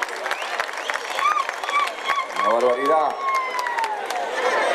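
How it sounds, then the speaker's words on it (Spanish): A folk music festival crowd applauds the sound crew, with scattered clapping and some cheering running under an amplified announcer's voice that talks through most of the stretch. "Fuerte el aplauso para ellos"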